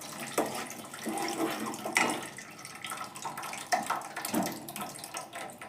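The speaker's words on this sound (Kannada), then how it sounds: "ಅದ್ರ ನೀರು ಹಾಕ್ಕೊಳ್ತಿದ್ದೇವೆ." Boiled lentil water is poured into a pot of sambar, giving a steady splashing, gurgling pour that continues throughout at moderate loudness, with no talk over it.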